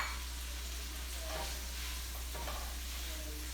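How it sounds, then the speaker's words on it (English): Tofurkey sausage sizzles and fries in a pan with tofu scramble, a steady crackling hiss stirred now and then, fairly close and quiet, with no talking. "I'm going to add in my tofurkey sausage"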